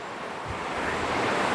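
A waterfall along a cascade trail in Tejutepeque, Cabañas, El Salvador, gives off a steady, broad rushing roar that swells slightly louder over its short span, heard at some distance with no voices.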